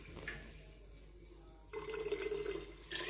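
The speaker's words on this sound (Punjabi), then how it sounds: "ਇਹ ਆਪਾਂ ਪਾ ਲਿਆ ਜੀ ਪਾਣੀ" Water is poured into a pot of rice being cooked, with a soft splash that swells into a steady, close pour and then breaks off near the end.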